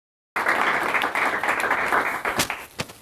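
A lecture audience on the culture of mudéjares and moriscos bursts into applause after a brief silence. The dense clapping holds steady, then thins out toward the end into a few separate, louder claps.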